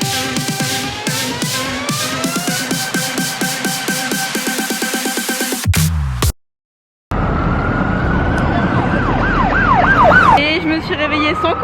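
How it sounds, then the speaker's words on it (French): Busy street noise in Times Square, New York: a loud wailing emergency-vehicle siren sweeps up and down over dense traffic din, then after a brief cut a second warbling siren sounds nearby. "on est actuellement sur Times Square, d'où le bruit de partout"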